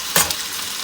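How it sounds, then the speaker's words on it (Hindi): Persian kebabs frying on a tawa over a slow flame give off a brief soft sizzling burst, then settle into a faint, steady hiss. "अब हम लोग इनको स्लो फ्लेम पर 3 मिनट के लिए और पकाएंगे"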